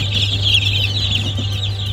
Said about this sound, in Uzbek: Mana yana jo'jalarimiz.